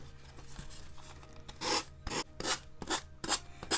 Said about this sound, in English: This is just a sanding pad.